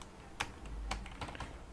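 Computer keyboard keys clatter in a few quick, close taps with a firmer press of the enter key, recorded during a JavaScript form validation coding session, with no talk over them.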